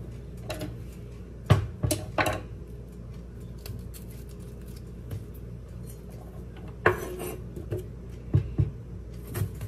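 Potatoes being sliced thin for a one-pan chicken and potato dinner, with scattered knife taps and clacks on a board and occasional louder clunks against a quiet kitchen background, without speech.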